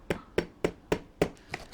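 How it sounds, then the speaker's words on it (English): Five sharp, evenly spaced hammer blows drive a flint into the urethane of an inline skate wheel, with a sixth softer tap at the end. Each strike is close and distinct against a quiet room. "Grab my vice grip, hammer it in"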